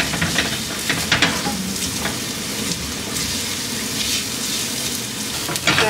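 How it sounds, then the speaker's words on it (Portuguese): Onion sautés in a hot pan, a dense close sizzle with occasional scraping stirs. "Já refoguei bem aqui a cebola"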